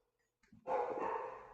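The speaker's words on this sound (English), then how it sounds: "You probably hear Bailey in the background barking" A dog barks in the background of an indoor call, apparently reacting to a delivery, a single sustained bark after near silence.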